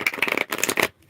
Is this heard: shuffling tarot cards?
yes